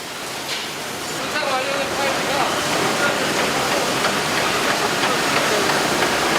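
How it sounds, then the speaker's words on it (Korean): Rotating hammer crusher pulverising waste glass in a recycling plant, a dense continuous roaring clatter of shattering fragments, loud and steady, swelling slightly after the first second. "회전하면서 이제 망치 형식으로 유리를 분쇄를 하고 있는 겁니다."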